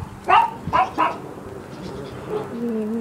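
Several sharp barks from a small Chihuahua-dachshund mix, a Chiweenie, in three quick bursts early on, then quieter, fainter yips and whines over a low background.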